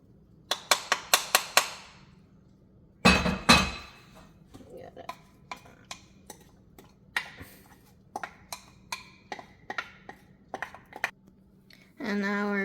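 A spoon clinks and scrapes against a pot while a stuffed pepper filling of parsley is stirred, giving a quick run of sharp metallic taps, a louder clatter, then scattered lighter knocks, with speech in the background.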